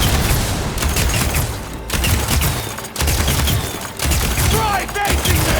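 Dense, continuous bursts of gunfire from the Horizon Forbidden West video game crackle loudly throughout, with short lulls between volleys and possible voices mixed into the battle noise.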